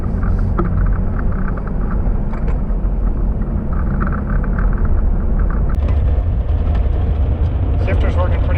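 Jeep Liberty with an NSG-370 six-speed manual and a B&M shifter on a test drive, its engine and road rumble steady and loud from inside the cabin, with speech mixed in.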